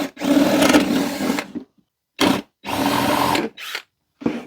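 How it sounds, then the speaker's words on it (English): A power drill bores a drainage hole into a small wooden planter, with loud whirring bursts separated by short silences: a long run, then several shorter pulses close to the microphone. "Now we just got to drill a hole in that thing and make ready for drainage."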